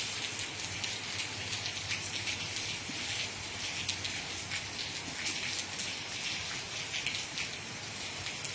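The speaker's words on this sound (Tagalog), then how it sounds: "ulan diri sa amoa" Steady rain falls continuously outdoors in the morning, a dense, even hiss of drops on surfaces with no pauses or voices throughout.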